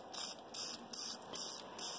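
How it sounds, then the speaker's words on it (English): Red spray paint hisses from an aerosol can onto light dried flowers in five short bursts, each about a quarter second, steady and close with brief gaps between. "this here is just some red spray paint"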